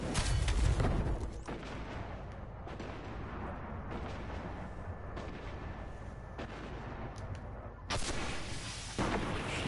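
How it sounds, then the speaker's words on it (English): Explosions and heavy weapon blasts from the video game Destiny, a loud dense burst at the start followed by sustained rumbling combat noise and another strong burst near the end, with no talk. "Love a good old explosion"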